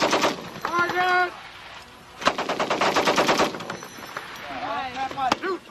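An M60 machine gun fires during 1999 U.S. Army training at Fort Leonard Wood, sending out loud, close bursts of rapid shots separated by short pauses, while voices shout over and between the bursts.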